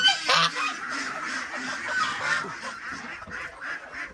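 Geese at a farm, a brooding goose among them, giving a run of nasal honks and quacking calls close by, repeated in quick uneven bursts.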